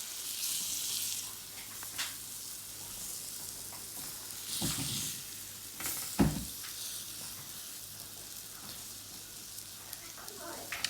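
Picanha steak sizzles on a hot salt block just after being flipped, a steady broadband hiss with a few louder crackling bursts and utensil scrapes, heard close up.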